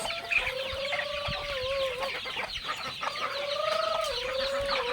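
Chickens and roosters in a backyard coop on a Filipino farm cluck and call repeatedly, with a drawn-out crowing note rising and falling twice over close, busy barnyard sounds.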